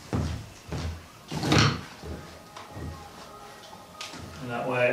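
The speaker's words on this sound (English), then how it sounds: "I'm gonna close this door so it gets scanned in." A door being pushed shut in a room with a Magic Leap augmented reality headset demo, a few thuds and a sharper knock mixed with people talking nearby.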